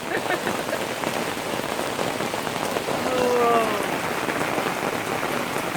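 Heavy, torrential rain pours steadily onto a surface at a campsite, a dense, constant hiss with a brief faint tonal squeak partway through.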